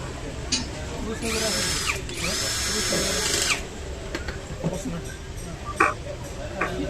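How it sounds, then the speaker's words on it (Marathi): A power screwdriver drives the screws holding the IGBT and rectifier in an induction cooktop during repair, with a couple of short whirring bursts followed by small clicks and handling noises while someone speaks. "आता आपण हे त्याचे जे स्क्रू आहेत जी बी टी आणि रेक्टिफायरचे बसून घेऊयात"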